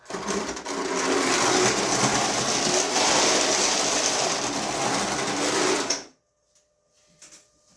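An old, long-unused open-frame toy train motor whirs loudly and raspily for about six seconds, a rattling mechanical buzz, then stops abruptly, leaving near silence.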